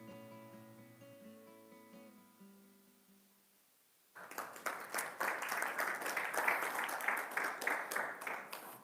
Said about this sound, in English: The applause is to God, so I don't take any at all.